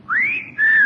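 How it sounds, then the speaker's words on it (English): A single person whistles two clear, rising-then-falling notes, loud and close, with a short gap between them and no speech over it. "I find that whistle intensely objectionable, young man."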